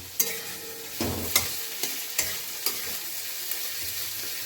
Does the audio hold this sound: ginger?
yes